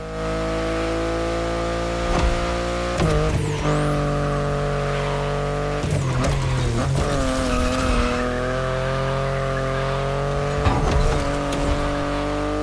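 A BMW i8 in The Crew Motorfest drives with a steady engine drone, broken by several sharp tire squeals and skids at intervals, loud and close with no talking.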